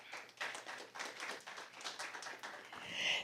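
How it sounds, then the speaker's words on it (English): Applause after a debate speech at a school debate round, a modest, steady patter of hand claps from a small audience, fairly even in level and swelling slightly toward the end. "Round of applause."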